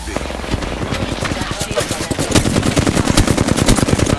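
Rapid automatic gunfire from a shooter video game during a ranked match, loud dense bursts of shots rattling continuously and intensifying toward the end, with players talking over it.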